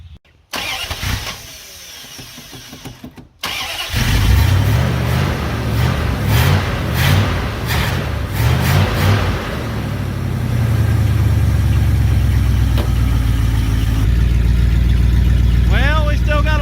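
The engine of a 1971 Dodge D100 pickup cranks briefly and catches, then settles into a loud, steady idle that goes on throughout, with someone talking over it at the start.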